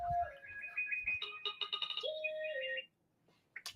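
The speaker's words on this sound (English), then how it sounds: "when I get a message or a text that comes through like that" A phone text message notification plays a short, bright electronic chime melody of several quick tones, clear and close, then cuts off to near silence before a brief final blip.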